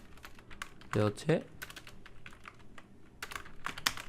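Clicking keys on a computer keyboard while text is typed, scattered close taps in uneven bursts, with a brief spoken word partway through.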